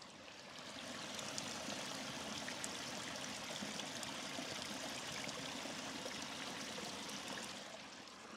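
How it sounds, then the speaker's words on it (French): Water trickling at a pond in the Normandy countryside: a continuous, even broadband rush and babble, soft and steady from start to end, heard alone without voices. "Je vous propose quelques secondes de bruit d'eau."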